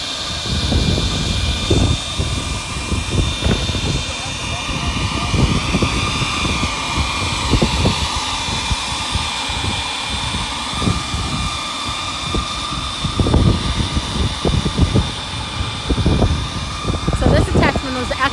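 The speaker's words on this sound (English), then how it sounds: "right now we have the Yarbo with the leaf blower attachment. We're just blowing the snow in the parking lot right now." A Yarbo robot fitted with a leaf blower attachment, rated up to 190 mph, blasts wet snow across a parking lot in Chicago, a steady loud jet-like roar running throughout with voices talking over it.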